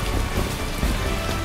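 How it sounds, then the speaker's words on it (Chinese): Heavy, continuous rain pours down on a muddy outdoor training camp, a dense, even hiss of drops close by with no voices. "一场大雨虽然让这次出街向导训练的营地显得泥泞不堪"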